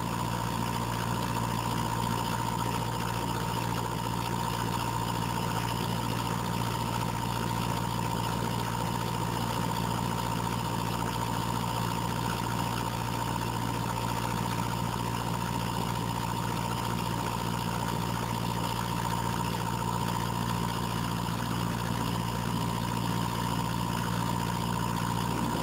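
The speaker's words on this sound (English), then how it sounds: "I hope you can hear that when that generator cycles a heavy load" A generator runs under heavy load, a loud steady engine drone with a constant hum and no clear break, rattling faintly within the continuous noise.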